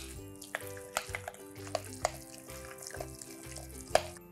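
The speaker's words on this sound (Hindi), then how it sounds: "और किस तरीके से आप कोफ्ते तलोगे वो आप ध्यान से देखो।" Lauki (bottle gourd) koftas sizzle and fry in hot oil, a steady crackle broken by sharper pops and spatters, close and moderately quiet.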